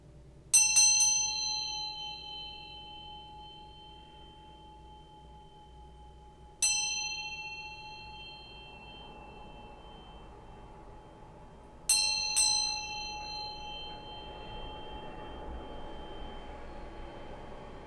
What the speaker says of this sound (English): I'm going to ring this bell a couple times,